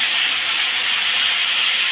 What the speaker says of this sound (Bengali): এবারে আমি দিলাম বরবটিগুলো।